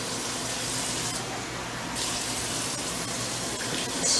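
Water pours steadily onto sugar to mix a yellow jacket trap bait, giving a continuous close-up splashing gush that runs the whole time with no talking.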